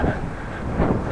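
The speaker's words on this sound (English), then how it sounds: "Wind in my face." Wind buffets the microphone during a snowy walk through Groningen streets, a steady low roaring rumble that fills the whole short stretch without pause.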